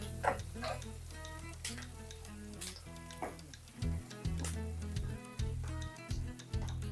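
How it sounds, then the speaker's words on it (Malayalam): Sliced onions with curry leaves sauté in a pan, giving a steady low sizzle. Soft stirring clicks and scrapes come through at close range with no talking. "സവാള നല്ലതുപോലെ വഴറ്റിയെടുക്കണം"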